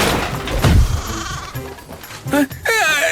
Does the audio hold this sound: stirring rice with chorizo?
no